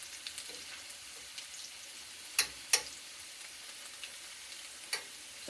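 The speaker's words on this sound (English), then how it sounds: "fried in bacon grease" Potatoes frying in bacon grease, a soft steady sizzle with a few sharp pops and crackles standing out, fairly quiet and heard alone without talk.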